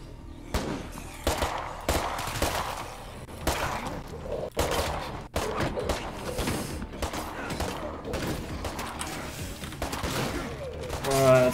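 Gunshots ring out repeatedly in State of Decay 2, irregular cracks and bursts of firing that continue throughout amid game noise, with a person talking over them.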